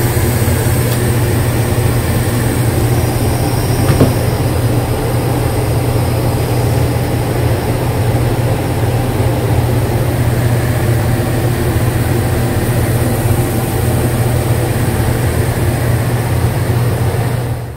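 An air conditioning unit runs steadily with its TXV expansion valve hunting, a loud continuous low mechanical hum and whir filling the whole stretch with no voices.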